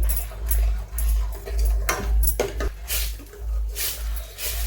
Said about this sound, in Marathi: हे तुपावर आपण जरा परतून घेणार आहोत एक मिनिटासाठी